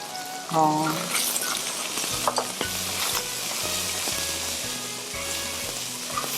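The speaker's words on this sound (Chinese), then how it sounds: "你还是辛香料一定要爆香" Chili, garlic and scallions sizzle loudly in hot oil while being stirred, with a rhythmic scrape and clatter of a utensil repeating every half second, after a brief spoken word near the start.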